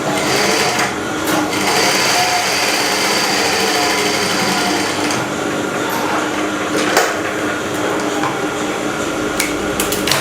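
A sewing machine stitches a double welt pocket, running as a steady, close mechanical whir and rapid needle clatter for the whole stretch, with a few sharper knocks along the way and no talk.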